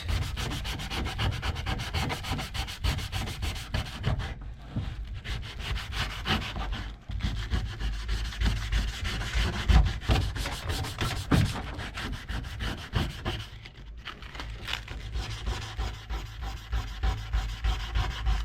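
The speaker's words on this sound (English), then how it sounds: "so we're gonna get this thing a little sharpened here" A rusty planer blade is rubbed back and forth for sharpening, a close, continuous rasping and scraping in fast, rhythmic strokes with a few brief pauses, and no talking.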